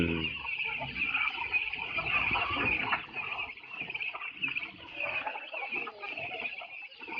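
Chickens cluck and squawk continuously, a busy flock close by with overlapping calls and some background rustling.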